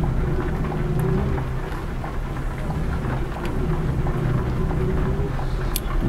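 Heavy rain falls in Euro Truck Simulator 2 while a G7 1800 DD bus climbs the Serra do Cafezal, a dense, continuous hiss with occasional low rumbles. It holds steady throughout, with no voices.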